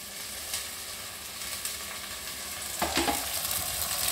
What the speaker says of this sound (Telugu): ఇది కూడా కొంచెం ఫ్రై చేయాలండి.